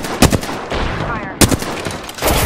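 Gunfire in the Apex Legends video game comes as two sharp bursts of shots over busy game sound, with in-game voice callouts.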